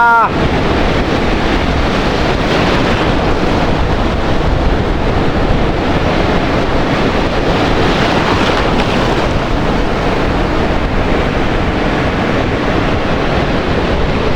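Ocean surf at a beach resort rolls in as a constant, loud roar, heavily buffeted by wind noise on the microphone with no break from start to finish.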